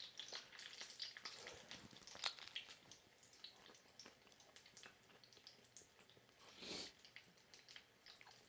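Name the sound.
food frying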